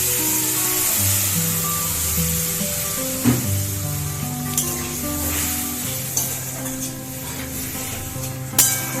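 Water and a spice paste go into a hot pan, and a loud steady sizzle of frying runs throughout, with occasional clinks of a utensil stirring against the pan and no talking.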